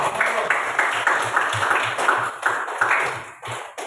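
Rhythmic group clapping in a classroom for a student after a vault over a box, a steady, even beat of hands struck together in unison, close and moderately loud, repeating about three times per second.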